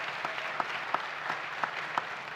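Audience at a Black graduation celebration clapping steadily, a soft distant patter of applause with a few sharper claps standing out, no voices heard.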